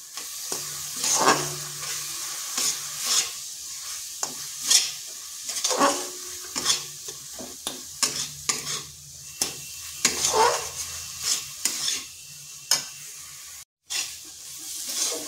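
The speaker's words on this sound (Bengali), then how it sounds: "এরপর ভালো করে এগুলো মিশিয়ে নিচ্ছি।" A spoon stirs flattened rice, grated coconut and milk in a pan, giving repeated scraping strokes at an irregular rhythm over a soft sizzle, close and fairly quiet, with a brief gap near the end.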